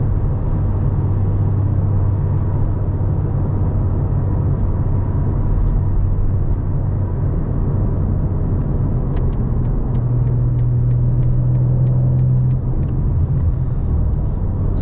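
A 2023 BMW M4 Competition xDrive cruising on a highway, heard from inside as a steady, loud low rumble of engine and road noise that holds constant throughout with no talking.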